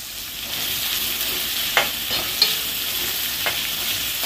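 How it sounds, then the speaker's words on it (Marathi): Chopped onion frying in hot oil in a pan, a steady close sizzle with a few brief spatula clinks and stirring scrapes over it. "कांदा ब्राऊन कलर येईपर्यंत चांगला असा परतून घ्यायचा"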